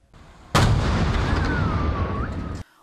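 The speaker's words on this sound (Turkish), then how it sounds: "dairenin kliması bomba gibi patladı" An air conditioner unit at an apartment in Esenler, Istanbul explodes: a sudden loud blast bursts in and a dense roar sustains for about two seconds before cutting off.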